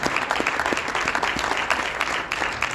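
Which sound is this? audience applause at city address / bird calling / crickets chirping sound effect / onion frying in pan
audience applause at city address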